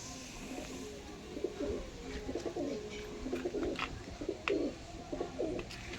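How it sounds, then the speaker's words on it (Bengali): Rampuri pigeons cooing nearby in repeated, throaty rolling phrases, one call after another, over a low background rumble. "নেক্সট পিয়ার আছে একটু রামপুরি পায়রা"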